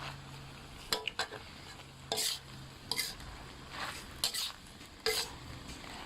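Curry paste stir-frying in a pan for a Thai curry with shrimp, with repeated sharp spatula scrapes and clanks in bursts over a low sizzle, close and clear.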